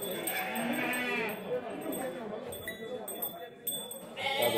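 Sheep bleating amid the bustle of a goat and livestock fair in Igaci, Alagoas, Brazil, with repeated animal calls mixed into crowd noise while someone talks nearby.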